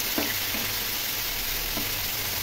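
Potato and bitter gourd pieces fry in a pan with turmeric and salt, giving a constant close sizzle broken by a few soft scrapes of stirring and no talk.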